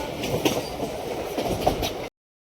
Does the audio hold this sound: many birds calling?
no